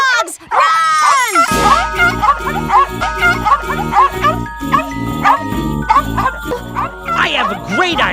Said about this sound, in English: Guard dogs! Run!